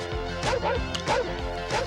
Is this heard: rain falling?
no